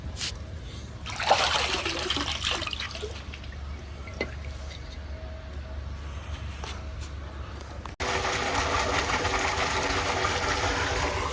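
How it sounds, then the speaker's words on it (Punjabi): Water from a motor-driven pump in a farm field pours out in a continuous rushing trickle that swells into a louder, steady gush partway through, with some faint talk in the background. "ਉਹ ਨਿਕਲਣ ਲੱਗ ਗਿਆ ਪਾਣੀ"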